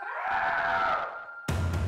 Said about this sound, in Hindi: ये किसकी आवाज है? ये तो कोई चिल्ला रहा है।